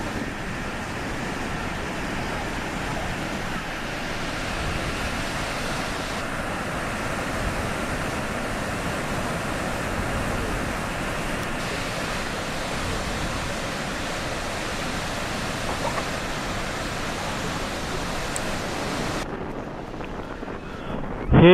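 Niagara Falls, the American Falls and the main falls, heard from a boat on the water: a dense, unbroken roar of falling water and buffeting wind that stays steady and loud throughout, with no voices.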